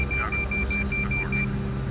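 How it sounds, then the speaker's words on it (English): A cockpit warning in a CRJ 200 in the X-Plane 11 flight simulator beeps in a steady rapid series of short tones over the constant low drone of the engines. "I swear that beeping is so annoying"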